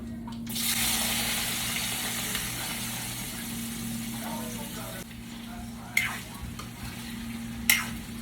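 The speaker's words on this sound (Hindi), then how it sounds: "ऑयल गर्म हो गया है और मैं डाल रही हूँ ये हींग, इसके अंदर मैं डाल रही हूँ और ये मैं मैंगो इसके अंदर डाल रही हूँ" Mango pieces and asafoetida sizzle in hot oil, a steady broad frying hiss running throughout, with two brief sharper clinks or spatters near the end.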